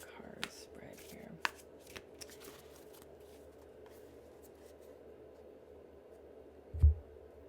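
Tarot cards shuffled close up during a reading, a soft steady riffling whisper with a few light taps and a low thump near the end.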